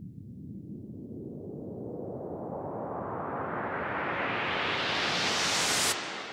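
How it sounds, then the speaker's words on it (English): White noise from three layered noise oscillators sweeps steadily upward as automated EQ opens it out, rising and swelling over about six seconds before cutting off abruptly, heard alone. "as I play this white noise riser with the EQ enabled"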